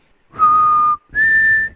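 Two sustained whistled notes from the Guardians of the Galaxy Vol. 3 film, the arrow-controlling whistle, the second held slightly higher than the first, loud and close with a brief gap between them and no speech.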